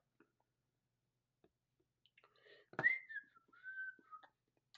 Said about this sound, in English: I'm whistling all of a sudden.